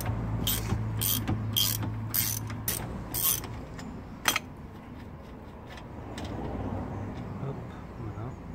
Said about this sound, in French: La clé à utiliser ici, c'est du 30, donc une douille de 30, et on débloque, tout simplement.